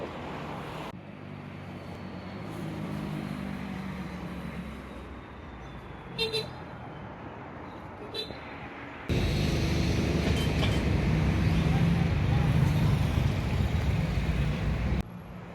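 Vehicles move past at the Zihuatanejo bus station, a broad rushing traffic roar that stays steady, with a couple of brief sharp clanks and a louder stretch as something heavier rolls by nearby.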